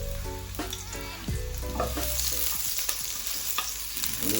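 Onions dropped into hot olive oil in a pan set up a loud, continuous frying sizzle with crackling, with a few clinks and scrapes of utensils on the cookware, and no talk.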